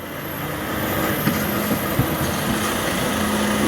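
A vehicle engine idles steadily at close range, a constant low drone with faint mechanical ticking, heard alone with no talk, just before being switched off.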